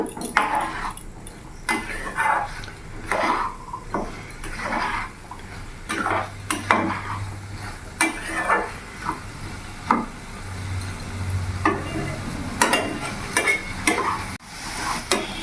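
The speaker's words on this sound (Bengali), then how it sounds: "এবার এখানে ভেজে রাখা আলুগুলো আমি পুরো দিয়ে দেবো আমি আরও ভালো করে নাড়াচাড়া করে নেব" Spoon scraping and clattering against a pan as fried potatoes are stirred into a curry over a raised gas flame, irregular metallic knocks repeating close up over a soft background sizzle.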